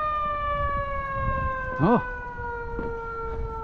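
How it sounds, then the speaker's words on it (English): An ambulance siren switches on in a city street, its steady electronic wail ringing out at a moderate distance over traffic hum while a person nearby briefly exclaims. "There's an ambulance. What's going on up there? Oh, he's turning on his siren,"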